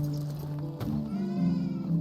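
A goat in the medieval farming game Medieval Dynasty gives a pair of wavering bleats, close and fairly clear, with no talk over it.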